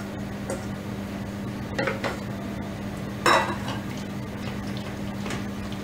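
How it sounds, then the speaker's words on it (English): Steamed vegetables for pav bhaji stirred in a pan, with soft scraping and clinks of a utensil against metal over a steady low hum, a few louder stirring strokes standing out near the middle. "Now we are going to add this steamed vegetables."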